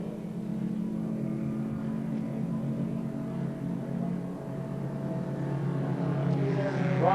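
Historic race cars, including an ERA, circulate at the Phillip Island circuit, their engines a steady, moderately distant drone that swells slightly toward the end.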